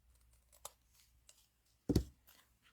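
A paper die cut being trimmed with scissors at a crafting table, heard as a few faint snips and then one louder close crisp cut, with quiet pauses between.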